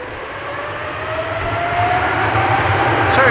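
A wide-body Boeing 777 airliner taxis up at Amsterdam Schiphol on a windy day, its engines a loud, steady roar with a whining tone that slowly builds, with no talk over it.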